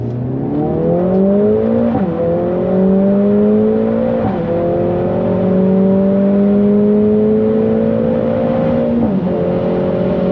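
A 490 hp Mercedes-AMG A 45 S on the Nürburgring, its engine droning loud and close as it climbs through the gears, with a few quick shift breaks and the hiss of an Opus blow-off valve venting between them; no voices.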